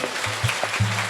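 A congregation at a Friday church prayer meeting claps loudly, a short dense burst of applause over low background hum.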